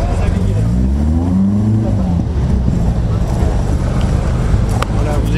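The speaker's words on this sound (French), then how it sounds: "vous écoutez celle qui sera bien sur l'affiche cette année, c'est la Lancia Fulvia 1600" A Lancia Fulvia 1600 rally car at the Rallye Monte-Carlo Historique 2015 revs nearby, its engine pitch rising and falling in loud sweeps with a voice talking over it.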